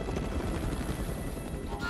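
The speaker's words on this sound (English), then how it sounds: "And there's a helicopter." A helicopter in the video game Uncharted: Drake's Fortune churns with a steady, dense rotor rumble that fills the whole stretch, with voices faintly present beneath.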